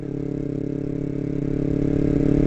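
A motorcycle engine runs steadily near the microphone with a firm rhythmic drone that rises slightly in pitch toward the end, alone and without talk.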